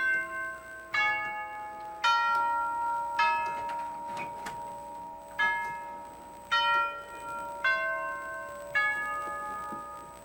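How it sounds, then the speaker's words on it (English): A home doorbell's chimes ring out in a slow series of clear, bright bell tones, each struck note decaying before the next, with no talk over them. "The wonderful doorbell chimes"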